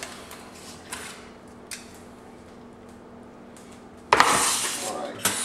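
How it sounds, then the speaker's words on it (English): Oven-roasted chicken and vegetables are handled in the kitchen and plated, with scattered light clinks of pans and utensils and a louder metallic clatter near the end, while someone talks. "let's go ahead and pull this out the oven, and we're going to get this all plated up"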